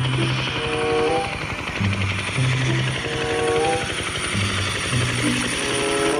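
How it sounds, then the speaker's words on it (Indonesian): A toy police helicopter whirring with a steady mechanical rotor buzz, with a repeating electronic siren-like melody playing over it, close and continuous. "ada helikopter polisi."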